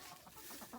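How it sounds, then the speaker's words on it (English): Chickens cluck in a newly built farm coop, a short burst of close, throaty clucks and soft murmurs from the flock. "These chickens do still free range some."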